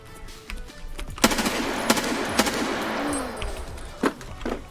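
Gunfire in the Escape from Tarkov video game, several loud sharp shots scattered across a few seconds against a steady background, with rounds striking an armored enemy without penetrating.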